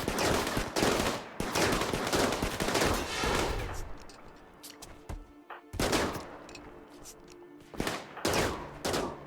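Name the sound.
colonists shooting at a zombie in RimWorld video game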